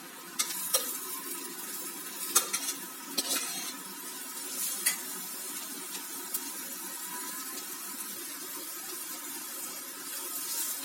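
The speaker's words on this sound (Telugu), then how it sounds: "ఇది ఇప్పుడు నూనెలో కొద్దిసేపు ఫ్రై కావాలండి మంచిగా" Boiled bitter gourd pieces fry in oil with turmeric as a spoon stirs them, making a soft continuous sizzle broken by sharp scraping clinks of the utensil against the pan, close by.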